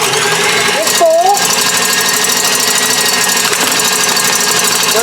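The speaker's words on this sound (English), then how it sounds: "we're going to take our egg whites, just like that, and we're putting them on whisk" An electric mixer whisking egg whites for a strawberry cake, a steady loud motor whir throughout, with a voice speaking briefly over it.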